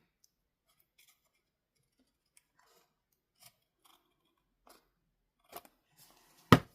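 Scissors snip through a paper envelope tag for a junk journal, a few quiet sparse cuts building to a sharper, louder snip at the end, close up with no talking.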